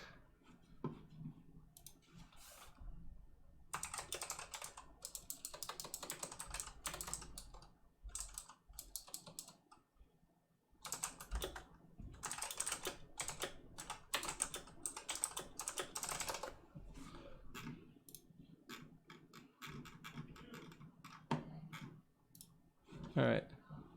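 Rapid bursts of computer keyboard typing during a Type Racer game, dense close clicking in fast runs broken by short pauses, with people talking faintly underneath.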